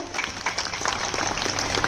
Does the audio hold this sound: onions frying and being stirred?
no